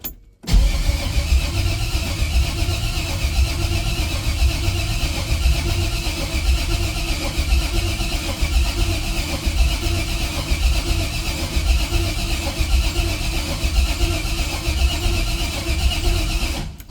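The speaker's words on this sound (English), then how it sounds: "The pump is crank driven, so you have to turn the motor over to build oil pressure" A 1968 Cadillac hearse with a swapped-in LS V8 cranks over steadily without starting, a loud, close, continuous churning drone that holds unbroken for the whole stretch.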